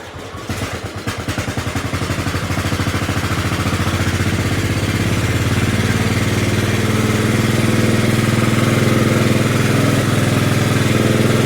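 An LT1000 lawn tractor engine on choke cranks briefly, catches and settles into a loud, steady, rattly run that builds slightly and holds at a constant pace, close up, with no talking.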